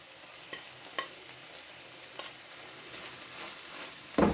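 Carrots and other vegetables are stir-fried with chicken in a pan for spring roll filling, a soft steady sizzle with a few light scrapes of stirring and a louder clatter right at the end.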